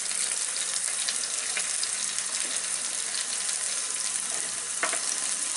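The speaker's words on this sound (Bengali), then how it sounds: "একটা প্যানে একটু তেল গরম করে এর মধ্যে অল্প একটু আদা রসুন 1 চা চামচের মতো এরকম কুচি কুচি করে দিয়ে দিব" About a teaspoon of finely chopped ginger and garlic fries in hot oil in a pan, giving a steady, close, bright sizzle that holds evenly throughout with no talking.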